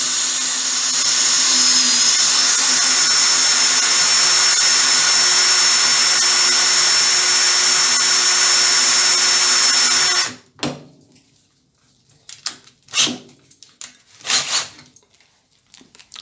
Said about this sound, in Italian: con un trapanino così si possa fare 2 maschiate di 16 mm